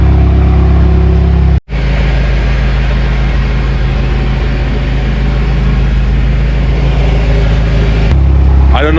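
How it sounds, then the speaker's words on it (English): Loud custom exhaust on a Porsche, a steady low engine drone with broadband roar running almost continuously, broken by one brief cut near the start, close and prominent throughout. "but the custom exhaust, it's loud. To be honest, it sounds good."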